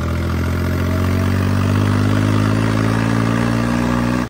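Farmtrac 60 tractor engine held at full revs, a loud, steady, close diesel drone with clattering overtones that cuts off abruptly at the end.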